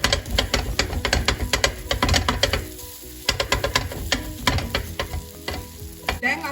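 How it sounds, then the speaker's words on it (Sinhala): Kottu being chopped and stirred on a hot griddle, a fast clatter of metal blades striking the flat iron in bursts over a steady frying sizzle, with a brief lull before the rapid chopping resumes. "දැන් මේක හොඳට කවලම් කරමින් අපි කොත්තු ගහන විදිහට ටිකක් ගහගමු."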